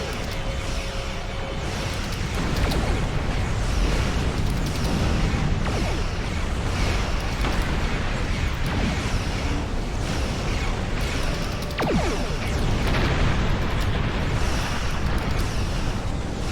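Klingon ship weapons fire and explosions from Star Trek Online roll on as a dense, continuous rumble, with repeated bursts and whooshing blasts layered over loud space-battle noise throughout.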